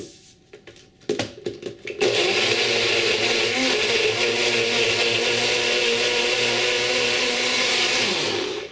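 A blender whirs up to full speed blending burger sauce ingredients for a bulgogi burger, a few clunks and knocks first, then a loud, steady, high-pitched motor roar held for over six seconds.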